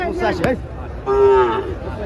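A five-month-old Sindhi bull calf at a cattle market moos once in a drawn-out low call, with crowd chatter and nearby voices around it.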